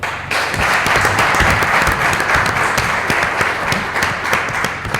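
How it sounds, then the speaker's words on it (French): Audience applause at an event in Lubumbashi, a dense, steady wash of many hands clapping that holds loud and close for the full stretch with no speech over it. "je vous prie d'applaudir"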